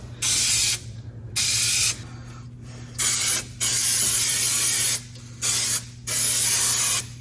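Spray adhesive hisses out in repeated loud bursts, several short and long sprays with gaps between, applied to the interior of a Ford F100 truck under a steady low hum.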